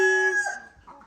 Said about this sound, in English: The rooster's over-crowing me.